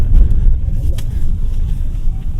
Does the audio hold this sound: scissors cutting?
no